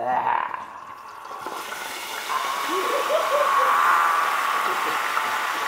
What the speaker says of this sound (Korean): 세계 최초 튀김옷 입히지 않고 김치 날것으로 튀기기